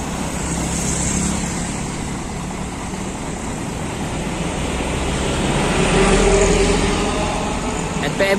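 A bus with a Mercedes-Benz OH1626L Euro 4 engine and a Jetbus 5 MHD body makes a steady, loud drone of engine and road noise that swells slightly midway, heard from close by.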